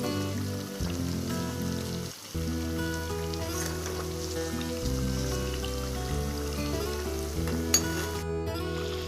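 Gujiya sizzle steadily in hot oil while being turned over, a continuous crackling fry with brief stirring clinks, close and alone.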